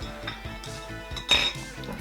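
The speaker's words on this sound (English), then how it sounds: "I think I'll just give it a stir" A wine cocktail with peach schnapps is stirred in a glass, giving a run of light, rhythmic clinks and scrapes of a spoon against the glass, with one brighter ringing chime near the end.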